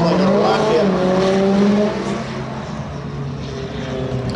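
A Mitsubishi all-wheel-drive Eclipse launching off the line in a 100 ft spectator drag race at Seekonk Speedway, a loud, close engine roar with rising revs that drops sharply after a couple of seconds as the car pulls away.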